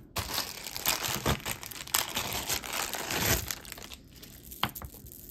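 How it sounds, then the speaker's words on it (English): A long strand of signed glass pearls is handled close up, the beads clicking, rattling and rustling continuously in a dense, busy texture with brief louder clusters. "And these are glass pearls, if you can't tell by all the noise they make."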